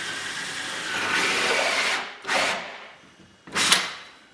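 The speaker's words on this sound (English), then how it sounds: "the hole saw starts to contact the door, you'll be able to tell that you're drilling straight by the ring that it leaves" A hole saw bites into a wooden door while fitting a lock: a sustained whirring grind that fades out, then two shorter loud bursts of cutting separated by pauses.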